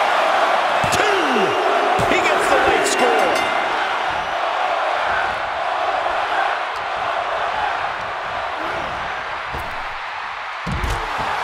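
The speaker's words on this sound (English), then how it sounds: "The sound of this crowd is deafening, and he's asking for more." Roaring arena crowd from the WWE 2K24 wrestling video game, a dense sustained wall of cheering with whoops and a sharp slam-like hit near the end, loud and continuous throughout.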